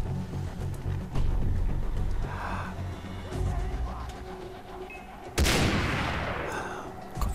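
Sniper rifle gunfire in the video game Far Cry 3: a sharp, loud shot cracks out with a burst of broadband noise, set against game ambience with fainter earlier reports and soft bird-like chirps.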